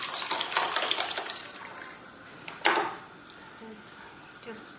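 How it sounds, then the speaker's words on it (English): Rasam, a thin South Indian soup, is poured from the cooking pot into a serving bowl, a steady close splashing flow of liquid that lasts several seconds, with a brief louder slosh partway through. "Let us now pour it into a serving bowl."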